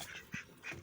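Ducks quack at a backyard pet house, two or three quick, soft calls spread across under a second, faint and close with nothing else over them.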